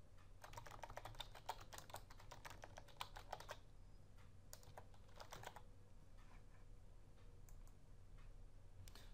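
Password being typed on a computer keyboard during a Windows 8 setup, a quick run of close key clicks followed by scattered, slower keystrokes, with no voices.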